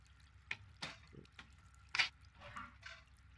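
Water runs and drips in the game Layers of Fear 2, a few scattered splashy drips and trickles at irregular intervals, close and fairly quiet with near silence between them.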